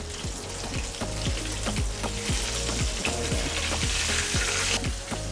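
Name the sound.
tofu frying in oil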